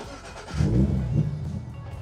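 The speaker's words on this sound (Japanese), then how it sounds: "じゃあちょっとエンジンかけていいですかこれ" A naturally aspirated Subaru BRZ (ZD8) engine cranks and catches, rising into a low rumbling idle with a brief rev, close by.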